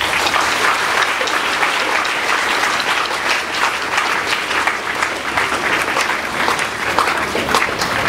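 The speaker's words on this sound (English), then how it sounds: "I believe you all deserve a round of applause." Sustained audience applause at a 25-year class anniversary gathering of a 1997 secondary school class in Onitsha, a dense, steady roar of many hands clapping with no voices standing out.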